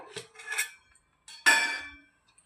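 A spoon stirring chicken biryani marinade with fried onions in a metal pot: a few short metallic clinks and scrapes in two brief bursts, close and clear, with no talking.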